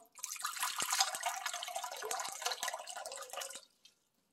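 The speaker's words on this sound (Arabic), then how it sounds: "ايس او تلج وهنحط ميه" Water poured over ice into a container to make a cold soaking brine for chicken drumsticks, a steady splashing pour with clinking ice lasting about three and a half seconds, close and fairly loud, then stopping.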